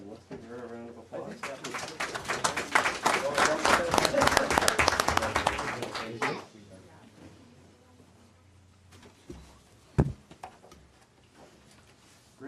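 Audience applause for a grade 4 student at a council meeting, a burst of dense clapping that swells for about six seconds and then fades out, followed by quiet room noise with a few scattered sounds.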